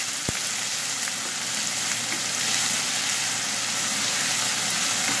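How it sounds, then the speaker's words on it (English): An onion fries in very hot oil in a pan, giving a loud, continuous crackling sizzle, with a single faint tap near the start. "there is 4 tablespoons of oil. It's very hot now. Cook the onion for 2 minutes or maybe 1"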